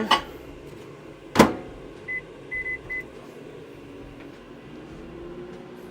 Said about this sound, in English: Let's get this heated up in the microwave.